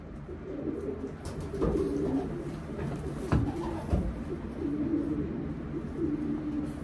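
Racing pigeons coo softly and repeatedly nearby, with a few brief knocks and shuffling sounds in the background.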